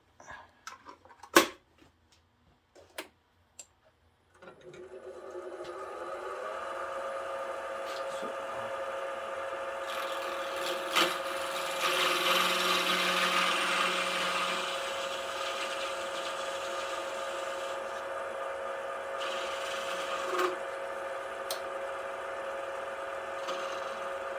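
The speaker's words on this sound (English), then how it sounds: "Probably need to switch my lathe over to a faster speed here for the time being." A wood lathe spins a slimline pen blank at higher speed, producing a steady whirring hum with tonal bands that holds for around twenty seconds after a few short knocks and clicks at the start.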